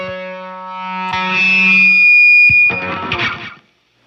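Electric guitar through a LunaStone overdrive pedal pushed by a compressor, playing a sustained distorted lead note that swells and bends, then a gritty chord strum that rings briefly before cutting off cleanly, loud and alone.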